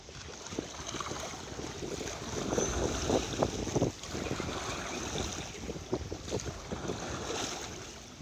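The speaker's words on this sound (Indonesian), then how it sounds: "Dengan cara mendayung sampai perumahan Kalibata, saya melakukan putar arah ke arah atas lagi menuju titik lokasi di mana korban Haikal tenggelam." A boat paddled along the Ciliwung river in Pejaten Timur during a flood rescue search, with a steady wash of water and wind buffeting the microphone throughout, plus occasional splashes and knocks, no speech.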